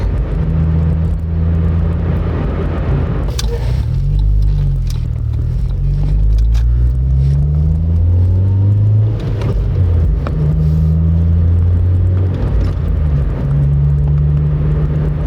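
A 2000 Honda Civic Si EM1 (Canadian-spec SiR) four-cylinder with an aftermarket exhaust revs up and down while driving, a loud, close, droning engine tone rising and falling in steady sweeps for the whole stretch.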